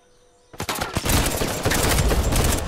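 Gunfire in Uncharted 4 multiplayer, dense rapid bursts of shots starting abruptly after a brief quiet moment and continuing loud and close without pause.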